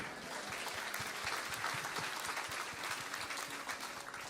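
A church congregation applauds steadily, a dense patter of many hands clapping at moderate volume without pause.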